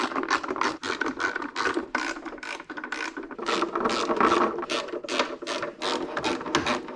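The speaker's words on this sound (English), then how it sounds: "grab a 10mm socket and screw in all the corresponding bolts" Ratchet with a 10mm socket tightening heat shield bolts during an engine install on a 2009 Mini Cooper, a fast continuous clicking run of pawl ticks up close, unbroken for several seconds.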